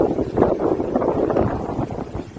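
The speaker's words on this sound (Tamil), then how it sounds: "காற்றின் வேகம் அதிகமாக இருக்கின்றது." Strong wind buffets across an open hilltop, a steady loud roar rushing over the microphone with no pauses.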